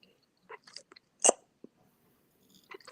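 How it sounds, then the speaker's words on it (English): Someone munching food close by, a handful of short crunchy bites and chews spaced out over a few seconds with quiet gaps between them and no talking. "I can hear you munching."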